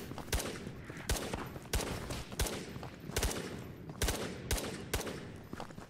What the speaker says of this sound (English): Noobus, you got scavs shooting at us now.